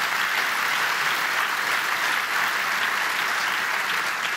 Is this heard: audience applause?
yes